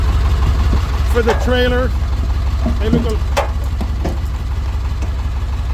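2000 International 4700 semi-tractor with a T444E diesel engine idling, a loud steady low rumble throughout, with someone talking over it.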